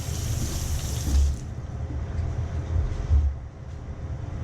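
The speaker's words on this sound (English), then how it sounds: "Rinse off the knife." Running water from a kitchen tap pours steadily over a cooking knife as it is rinsed after dicing onion, a continuous broadband rush close to the mic.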